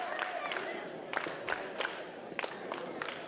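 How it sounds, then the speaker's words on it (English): Wrestling crowd at an indoor show cheering and shouting to rally a worn-down wrestler, a steady dense roar of voices with sharp bursts of yells and claps throughout. "Crowd again trying to rally Tattoo to his feet."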